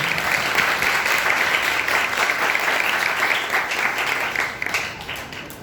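A congregation at a sermon on the Gospel of John bursts into steady, vigorous applause, a dense wash of clapping that holds for several seconds before tapering slightly near the end.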